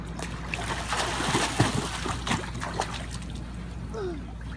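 A child swims in a backyard pool, making a steady wash of splashing and trickling water nearby, with a few louder splashes partway through.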